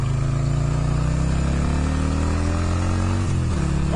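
A Yamaha Virago 250 motorcycle engine running up close, with a loud, steady throb whose pitch shifts slightly as the gears change near the end, with no voices over it.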